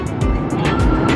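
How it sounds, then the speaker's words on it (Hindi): Street traffic in Quetta rushes past at close range, a busy roadway roar with vehicles passing in quick succession. "ये देखें ट्रैफिक, इसको बोलते हैं क्वेटा का ट्रैफिक"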